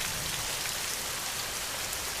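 Steady, dense rain falls continuously with an even hiss and no breaks, close and fairly loud, with no voices or thunder over it.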